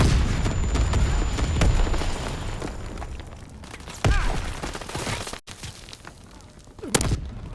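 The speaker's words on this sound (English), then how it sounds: "Enemy bomber approaching. Incendiary bombs incoming." Incendiary bombs dropped by an enemy bomber explode in Call of Duty: WWII, a rumbling barrage of heavy booms and crackling blasts that swells, breaks off, then flares again in loud bursts.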